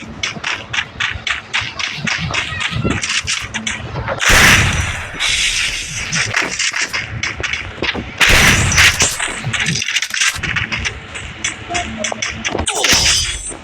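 Rapid bursts of gunfire from the Free Fire battle royale video game, with repeated sharp shots and heavier volleys, loud and continuous throughout with no talking.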